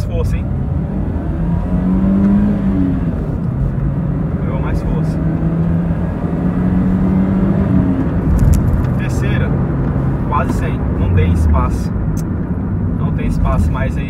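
A 2010/2011 Ford Fiesta 1.6 Class accelerating hard from a standstill toward 100 km/h, its engine droning steadily from inside the cabin with rising tone, while people talk over it throughout.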